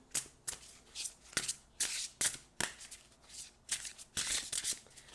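Oracle cards being shuffled for a reading, repeated bursts of riffling and sliding card noise in an irregular rhythm, close and fairly quiet with no talking.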